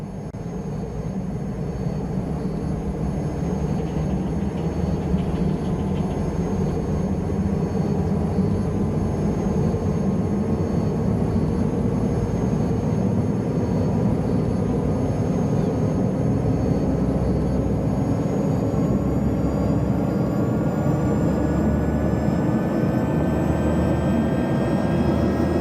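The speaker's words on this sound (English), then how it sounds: "Now listen to the sound of the rotors." SA 315B Lama helicopter in X-Plane 12 spooling up, a loud continuous turbine and rotor drone with whining tones that steadily rise in pitch throughout, alone with no talk.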